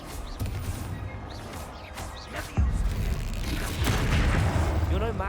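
Expelliarmus, the disarming spell, cast in the video game Hogwarts Legacy during a fight. It comes as a sharp magical burst and swooshing shimmer amid other combat blasts and whooshes, fairly close and mid-loud.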